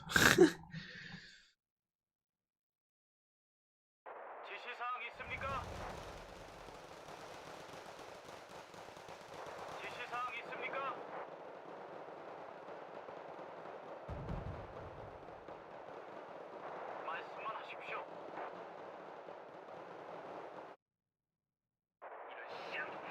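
Distant rumbling bursts of artillery bombardment in the video game Wargame: Red Dragon, a sustained noisy barrage lasting many seconds after a brief gap, moderately loud with a few sharper thuds.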